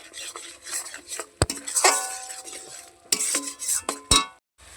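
Hilsa fish being stirred and sautéed with salt and chili powder in a pan, a spoon scraping and clinking against the metal in uneven strokes with a faint sizzle underneath, close and moderately loud.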